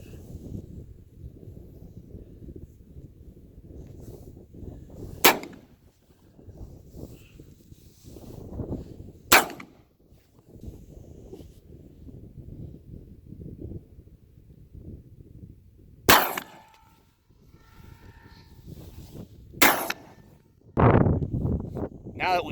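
Several sharp, loud reports from a Damascus-barreled smooth-bore shotgun, spaced seconds apart and standing out over steady outdoor wind and rustling noise.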